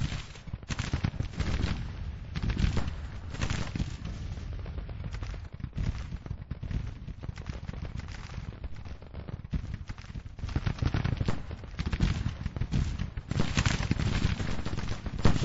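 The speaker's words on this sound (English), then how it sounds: "Daring is firing from behind the hill." Continuous cannon and gunfire from a Grand Tactician battle in the American Civil War's spring 1861 campaign, a dense, steady rumble of distant artillery volleys and musketry rolling on without pause, with no voices.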